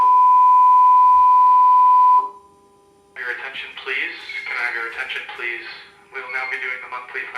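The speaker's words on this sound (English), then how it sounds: "Fire alarm test." A fire alarm test: a loud steady electronic tone holds for about two seconds and cuts off, then a loud voice announcement follows through the rest.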